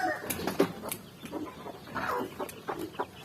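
Chickens clucking on a farm in Batangas, with a mother hen and her young chick making short, uneven calls at close range against quiet background noise.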